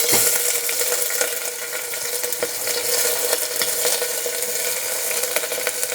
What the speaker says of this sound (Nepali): अब म फुराउन गइरहेको छु मेथी दाना फुराउने।